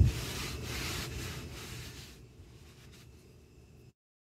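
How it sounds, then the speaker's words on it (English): Chalk paint is rubbed off a wooden dresser where Vaseline was applied beneath it. Close, breathy scuffing strokes repeat for a couple of seconds, then fade into quieter, lighter rubbing before stopping. "The paint rubs right off"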